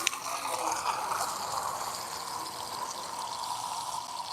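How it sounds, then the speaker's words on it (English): Water pours steadily into a container outdoors, a continuous soft gushing stream with faint mechanical clicks, fairly quiet and with no talking. "I'm trying to fill up this water"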